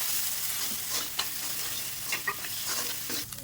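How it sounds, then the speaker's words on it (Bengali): Cumin paste and Kashmiri red chili powder are stirred in a hot pan, making a soft continuous sizzle broken by a few scraping strokes and light taps, quiet and close, with no voices. "1 চামচ কাশ্মীরি রেড চিলি পাউডার দিয়ে ভালো করে মিশিয়ে নেব।"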